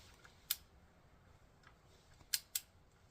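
A torque wrench set to 18 foot-pounds on a Kawasaki Ninja H2 oil change, giving a few faint sharp clicks, one alone and then a close pair, over quiet background.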